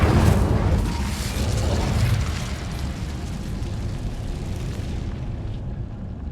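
Incendio fire spell cast in Hogwarts Legacy, a loud burst of roaring, explosive flame that rumbles heavily for about two seconds and then settles into a softer crackling hiss.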